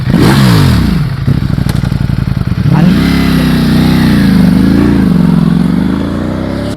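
A Ducati Panigale V4S, a 215 bhp superbike, roars close by. Its revs rise and fall in sharp swings, then settle into a steady, loud drone that holds for several seconds, with no voices.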